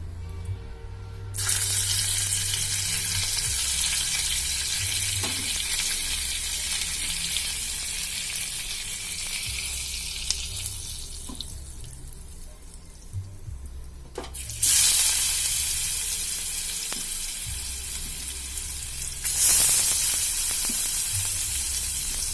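Butter and oil frying in a pan give a steady, loud sizzle that keeps going through the clip, with a few clinks and brief swells in the hiss and no talking.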